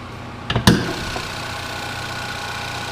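The 2.5 liter engine of a 2014 Chevy Malibu idling, a steady low hum under the open hood after a couple of sharp knocks near the start, moderately loud and continuous, no talking.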